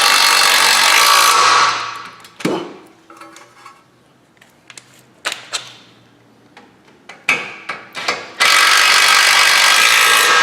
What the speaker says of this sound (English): We'll torque this fella down to factory specs